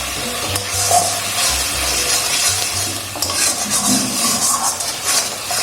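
Spices with turmeric and cumin powder are stir-fried in a pan for snakehead fish kalia, giving close scraping stirring strokes over a soft continuous sizzle.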